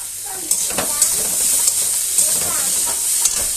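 Tomato with ginger and garlic fries in a pan, a steady close sizzle and hiss with occasional stirring scrapes throughout.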